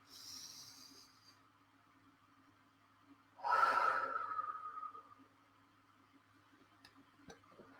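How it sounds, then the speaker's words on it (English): One deep breath during a guided meditation session: a long, close exhale follows a faint inhale, with quiet room sounds around it and no talking. "let's take a couple of really deep breaths"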